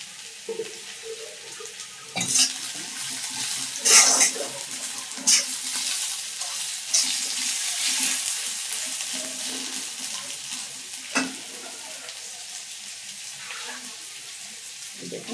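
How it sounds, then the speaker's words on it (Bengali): Mixed vegetables go into hot oil with fish heads, giving a steady, bright sizzle with intermittent scraping and stirring clatter from a utensil in the pan, close up and without talking. "এবার একে একে সব সবজিগুলো দিয়ে দেবো।"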